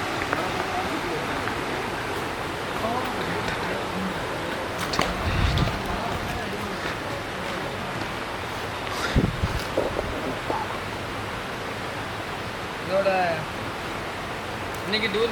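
A waterfall on a hill tour rushes with a steady broadband roar, while occasional thumps and faint background voices break through the constant water noise.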